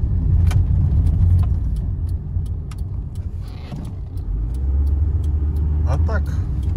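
A 1999 Hyundai Lantra 1.6 drives along on a hot day with the windows closed, its engine and road noise a steady low drone from inside the cabin, joined by occasional small clicks and a brief rattle.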